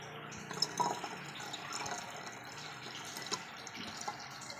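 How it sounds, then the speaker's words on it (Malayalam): Water is poured into a second home fish tank: a quiet, trickling splash and fill with small drips, soft and close, rising briefly in a few spots. "നമ്മൾ ഇത്തിനോട് വെള്ളം ഒഴിച്ചു കൊടുക്കാം."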